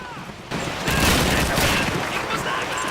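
Sten submachine gun firing in Call of Duty 2, a dense continuous rattle of automatic fire from the half-second mark onward, loud and close, layered over battlefield noise.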